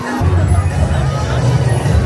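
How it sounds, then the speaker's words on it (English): A crowd of people at Magic Kingdom, Walt Disney World, makes a dense, steady babble of many voices close around, a continuous busy murmur without pauses. "across the crowd of people."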